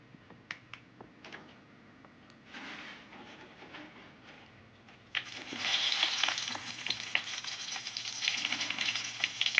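Chillies frying in oil in a wok, a soft crackle that swells into a steady, louder sizzle with scattered pops, close up, with no speech.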